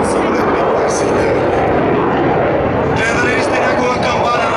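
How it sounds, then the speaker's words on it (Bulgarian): A MiG-29 jet roars loudly and continuously overhead at an air show in Sofia, a dense broadband rumble that swells slightly toward the end, with faint voices beneath. "Идва ред на фирмената фигура на самолет Ми-29."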